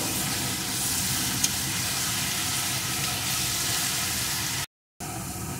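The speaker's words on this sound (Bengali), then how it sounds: "রসুনটা একটু ভেজে নেব।" Crushed garlic fries in oil in a pan, a steady close sizzle with faint crackle that runs unbroken apart from a brief cut near the end, with no talking.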